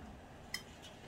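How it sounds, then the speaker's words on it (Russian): A fork taps against a plate while trying to spear thinly sliced cucumber and radish salad, a single faint, sharp clink in a quiet room, followed by a fainter second tick. "ты пытаешься вот это наколоть, а оно толщины не хватает, только по тарелке стучишь, вот как сейчас"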